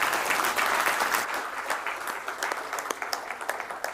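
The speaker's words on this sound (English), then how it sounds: "I would like to call for a round of applause for His Excellency, Ulysses" A conference audience claps for the Prime Minister at an African climate and development conference opening ceremony, dense applause that starts full and slowly thins toward scattered claps.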